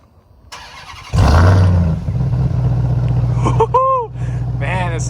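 A 2021 RAM TRX pickup truck's engine cranks and fires into a loud, deep idle, then is blipped with a couple of sharp revs that rise and fall, close up, with a voice briefly over it.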